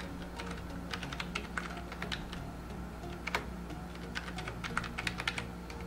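A password is typed on a computer keyboard, giving quiet irregular clicks in short bursts over a steady low hum, with no voice.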